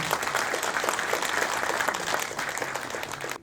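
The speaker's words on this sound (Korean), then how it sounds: "양자동 회장님 박수로 모셔보도록 하겠습니다." Audience applause fills a formal book-launch ceremony for a jobs forum as a chairman is welcomed to the stage, a dense steady clapping throughout without talk.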